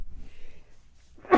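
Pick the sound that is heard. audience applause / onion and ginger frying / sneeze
sneeze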